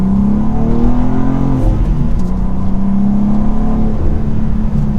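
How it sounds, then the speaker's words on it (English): A 2024 BMW M2 or Audi RS3 engine drones loudly and close, its pitch climbing steadily through a gear, dropping briefly at a shift, then rising again. "The engine just keeps pulling and pulling."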